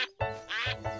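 Cartoon ducks quack in a quick series of bright, nasal, close calls, three or four in about a second, loud and clear with no talking.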